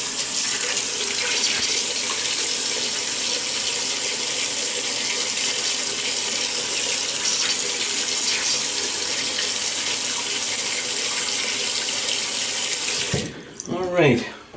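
A tap runs at full flow for about thirteen seconds while the face is wetted before a shave. The gush is loud and close, then cuts off, leaving a few splashes and soft movement.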